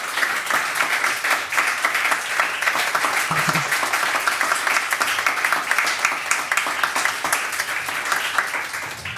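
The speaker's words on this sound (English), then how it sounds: "let's hear a round of applause for the poets that wrote that wonderful work" Sustained audience applause for the poets at a poetry night, a steady, dense wash of clapping from many hands with no speech over it.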